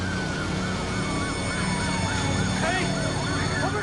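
An emergency vehicle's wailing siren sounds loud and close as it arrives at an aircraft crash site, rising and falling over engine and road noise.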